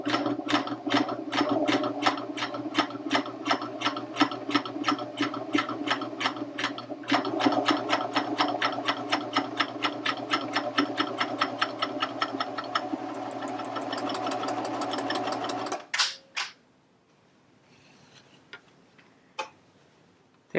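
A Baby Lock Vibrant serger gathers a ruffle onto flat fabric with a fast, even mechanical ticking and humming run that is loud and close. It slows briefly, then stops, leaving a few faint clicks.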